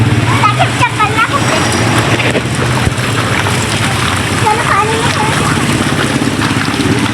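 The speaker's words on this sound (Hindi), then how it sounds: "और हम लोग पानी में तैरते हुए जा रहे हैं" Water splashing steadily as a group swims along a river, close and fairly loud over a low rumble of moving water and wind, with voices faintly in the background.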